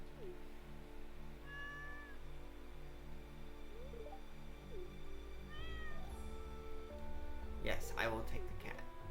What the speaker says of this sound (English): And we now get a cat.